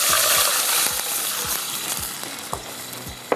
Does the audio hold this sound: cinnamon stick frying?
yes